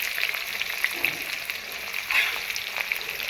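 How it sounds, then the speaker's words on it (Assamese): Onion frying in a pan with potatoes for a local chicken dish, a steady close crackling sizzle with light scraping stir sounds running throughout, unbroken by talk. "পিঁয়াজটো দিছে অলপ ৰঙা হোৱালৈকে ভাজিব"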